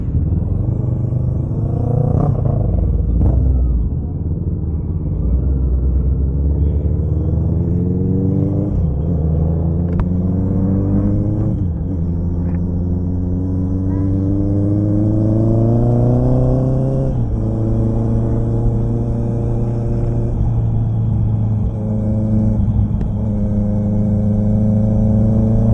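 A Honda CB650R inline-four motorcycle engine runs steadily near the microphone, its smooth hum rising in pitch through several revs and holding a higher tone toward the end, with no talking.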